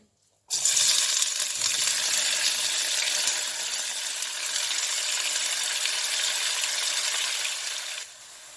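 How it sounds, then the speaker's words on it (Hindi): A loud burst of sizzling starts suddenly as onions hit hot oil, then a steady hiss continues for several seconds before easing off. "ऑयल गर्म हो चुका है, अब हम इसमें प्याज डालेंगे।"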